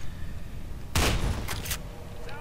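Two loud shotgun blasts in F.E.A.R. 2, a heavy booming shot followed by a second sharp report about half a second later, each with a short ringing tail over low game ambience.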